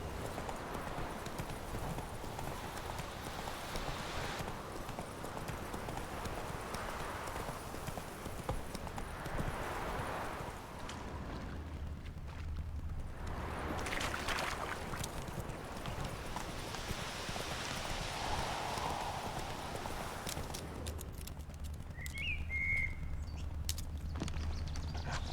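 Roach the horse from The Witcher 3: Wild Hunt on Nintendo Switch, hooves clip-clopping in a steady rhythm for most of the stretch over game ambience and light birdsong, with a brief lull in the middle.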